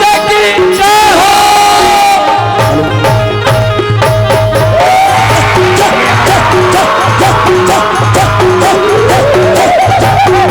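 A dense crowd at a religious procession roars with cheers, whoops and rhythmic chanting, loud and close, over a pulsing drumbeat and music.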